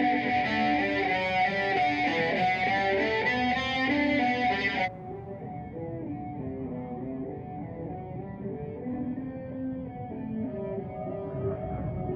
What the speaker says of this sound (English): I put the heavy distortion on because A, it sounds like fucking rock and roll